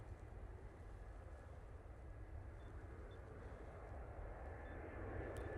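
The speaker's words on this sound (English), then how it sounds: "EasyJet coming in from Amsterdam." An EasyJet airliner arriving from Amsterdam at Manchester Airport gives a faint, distant, steady jet roar that swells slightly toward the end, with no voices over it.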